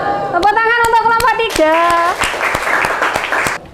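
Students clap in a classroom for a presenting group, with sharp, fairly close claps running through while a voice or tonal sound rings over the first half before fading at the end.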